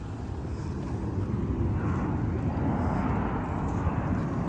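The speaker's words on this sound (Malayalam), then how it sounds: "നിങ്ങൾ കേട്ടോ ഒരു ഫ്ലൈറ്റ് പോകുന്ന സൗണ്ട്?" A fixed-wing airplane passes overhead, a broad steady roar that swells slightly mid-way and stays continuous and fairly loud throughout, with no voices.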